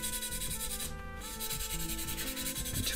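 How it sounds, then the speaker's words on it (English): A sander rubs over a painted 1/12 scale Aliens Power Loader model kit, smoothing a blob of brushed paint with a steady, close, continuous scratchy hiss and no voices. "with the sander"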